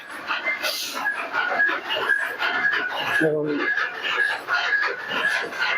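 Teddy pigeons kept for sale: bird calls repeat steadily over a continuous noisy background with what sounds like voices, fairly loud throughout.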